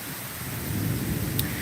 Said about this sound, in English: It is a cold rain, oddly enough.